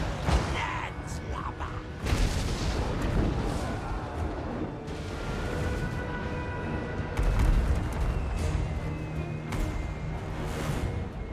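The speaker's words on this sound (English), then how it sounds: "big booming cannons there." Cannon fire booms through a Total War: Warhammer 2 battle, several heavy blasts spread across the stretch amid dense battlefield noise, with players talking over it.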